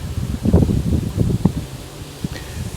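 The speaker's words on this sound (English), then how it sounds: "it's starting to get really windy out here because it's about to come down" Wind gusts buffet the microphone outdoors with soft rustling of leaves, irregular bursts rising and falling, no speech.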